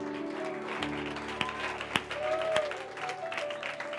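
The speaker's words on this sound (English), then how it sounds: "Come on, give a clap offering." A church congregation claps together at a revival service, a steady wash of applause over a sustained musical backdrop with a few sharper claps standing out.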